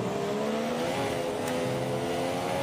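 Formula 1 race car engine in the F1 2017 video game, racing at Silverstone, a loud, steady high-pitched whine rising as it accelerates and shifts, heard alone.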